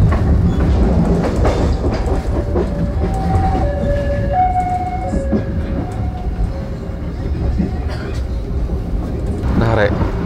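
The Malabar passenger train rumbles loudly along the rails from inside the carriage, with continuous rolling noise and clickety-clack, a passing horn or siren-like tones, and a voice talking over it.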